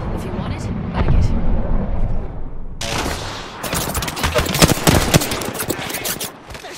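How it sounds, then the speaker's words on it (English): Dense rapid gunfire bursts in Apex Legends during a ranked match, loud and close, starting abruptly after a rumbling lead-in and continuing as clustered volleys with speech over it. "They're shooting at me."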